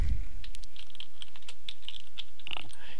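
Close, quick typing on a computer keyboard, with a steady patter of light key clicks running through the whole stretch.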